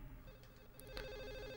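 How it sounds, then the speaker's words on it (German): A telephone bell rings in short bursts, faint and slightly muffled, over a low droning background in the video game Silent Hill 4: The Room. "die ganze Zeit klingelt dieses Telefon"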